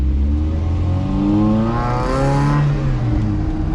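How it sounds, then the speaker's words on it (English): A 2004 Mazda Miata NB with a cut-off exhaust and test pipe revs up and back down, its raspy engine note rising and falling steadily over a few seconds, close and fairly loud with no talking. "Nice little raspy sound on the exhaust."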